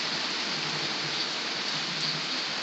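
Rain falls outdoors during a hailstorm, making a steady, even hiss of drops with no breaks throughout.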